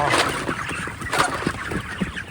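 A dense flock of broiler chickens in a poultry house, a continuous loud murmur of clucks and honking calls from many birds at once, close and steady with no pauses.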